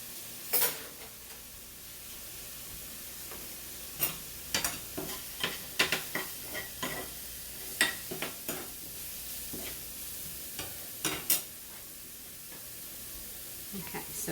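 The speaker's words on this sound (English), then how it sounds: "we just take our whisk and we're just going to whisk that together." A whisk mixing Cajun shrimp seasoning in a bowl, giving quiet, irregular clinks and scrapes over a soft hiss in a kitchen, with no voices.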